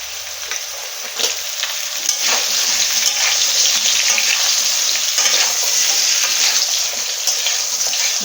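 Ridge gourd and vegetable stems fry in oil for a fish curry, added after the potatoes; a loud, steady sizzle runs throughout with the rustle of stirring and no voices.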